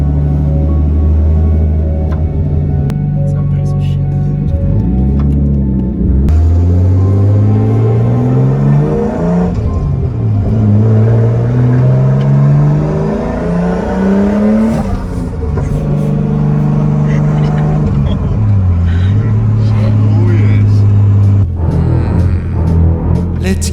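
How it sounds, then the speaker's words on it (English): A turbocharged Nissan Skyline in a video game drives and revs hard, its engine note climbing repeatedly through the gears with loud, close rumbling and turbo whine, with a voice talking over it. "I'm taking it out for a spin right now"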